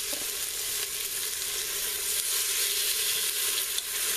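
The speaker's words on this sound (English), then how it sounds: "I just want to sear my pork chops really quick, get some color on them" Pork chops sear in a hot pan with a loud, steady sizzle and crackle, close up and continuous, with no voices.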